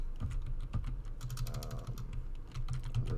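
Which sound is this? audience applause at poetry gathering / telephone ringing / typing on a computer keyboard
typing on a computer keyboard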